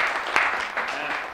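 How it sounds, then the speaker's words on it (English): Brief, moderate applause from a small audience at a city diversity commission meeting, a soft patter of hands with one sharper clap near the start, fading slightly at the end. "Let's give her a hand clap."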